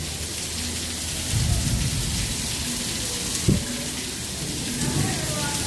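Rain pours steadily at Epcot's Japan pavilion, a constant hiss with low rumbling swells and one brief sharp knock partway through.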